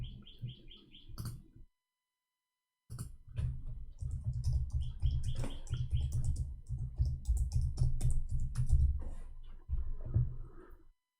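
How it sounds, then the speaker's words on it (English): Fast typing in Arabic on a computer keyboard, dense irregular clicks and key taps after a brief silent gap, close and fairly loud, with bird-like chirps in the background at the start. "I was typing in Arabic."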